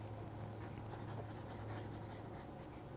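Broad-nib Moon Man Mini fountain pen scratching across notebook paper, a soft, continuous close-up scritch of strokes with faint room hum underneath.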